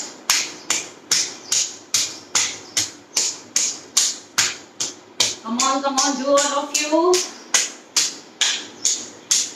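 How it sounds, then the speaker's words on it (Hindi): Steady hand clapping during a yoga exercise session, sharp evenly spaced claps repeating at a brisk regular beat, with a voice briefly speaking over them midway. "ताली बजाने से घर के वाइब्रेशंस भी बहुत अच्छे होते हैं"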